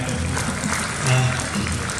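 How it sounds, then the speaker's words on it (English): An audience applauds students at a Republic Day function, a dense, steady clapping that holds at an even level throughout, with voices mixed in beneath it. "So a round of applause for our students in that."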